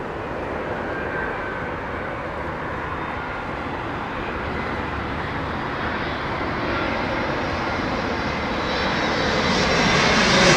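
A jet aircraft at London Heathrow Airport passing low overhead, a loud continuous engine roar with rushing downwash that swells gradually toward the end.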